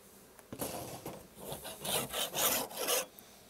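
Scraping the underside of a wooden beehive part clean during a spring apiary inspection: a close, steady series of gritty rasping strokes that grow louder toward the middle, with no voices.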